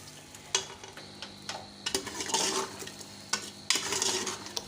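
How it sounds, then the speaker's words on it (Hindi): Boiled onion paste sizzles in a pan for a cauliflower and meat curry, with bursts of frying hiss and clattering spatula strokes against the metal pan, close and intermittent. "अच्छी तरह इसकी बुनाई करेंगे 3 से 4 मिनट"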